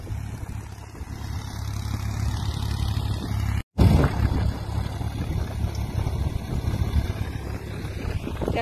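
A tractor engine drones steadily in a maize field, a close, continuous low rumble with a brief dropout partway through and no speech.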